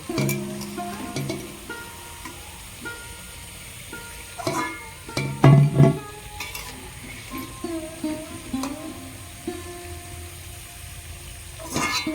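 Crackling and bubbling of potato snacks deep frying in oil, with scattered clinks of utensils and a few louder knocks partway through.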